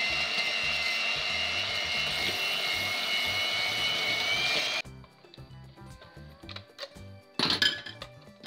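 A handheld electric mixer whirs steadily and loudly while beating cake batter at home, then cuts off abruptly, followed by clinks of a spoon against the bowl.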